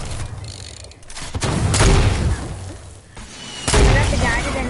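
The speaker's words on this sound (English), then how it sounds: "Another egg launcher." Egg launcher shots and explosions in an online shooter game, a few heavy booming bursts with rumbling tails and gunfire crackle, loud and close, with a voice talking intermittently over them.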